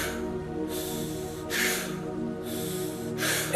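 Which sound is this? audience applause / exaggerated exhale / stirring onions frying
exaggerated exhale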